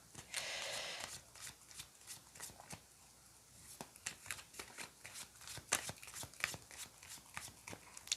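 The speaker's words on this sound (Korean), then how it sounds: "디테일 카드를 조금 더 뽑아보고 얘기를 이어보도록 할게요" Tarot cards are shuffled and drawn, a soft riffling burst followed by a series of quick, close card snaps and slides, quiet and sharp.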